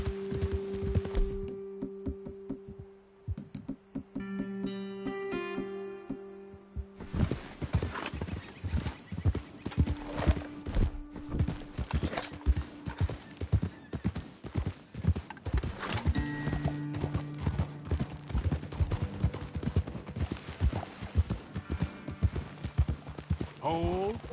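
Horse hooves clip-clop steadily on a trail in Red Dead Redemption 2, a dense rhythmic patter that runs through most of the stretch alongside a brief whinny, with game music and someone talking over it.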